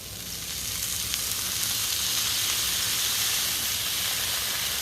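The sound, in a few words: water sizzling and steaming on hot griddle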